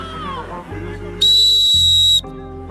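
A single sharp, piercing referee whistle blast at a youth football game, lasting about a second, loud and close, with low background chatter and rumble around it.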